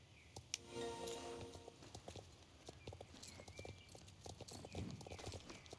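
Horse hooves clip-clopping steadily in the online game Star Stable Online, a close, even rhythmic hoofbeat on uneven ground with a brief whinny-like tone early on and no speech.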